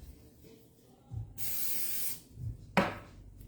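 Cooking spray is sprayed into a measuring cup in a kitchen, two close, loud hissing bursts, one sustained for under a second and a second shorter spurt after a pause.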